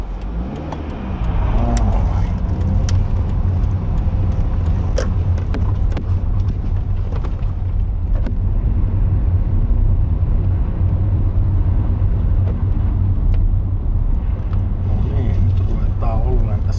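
Car driving slowly near a recreation area parking spot, with a steady, loud low engine rumble and road noise throughout, starting after a quiet first second.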